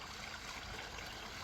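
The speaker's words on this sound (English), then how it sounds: "We have running water here on the koi pond" Running water splashing steadily from a geyser fountain in a clear, filtered koi pond, a continuous close trickle and burble with no pauses.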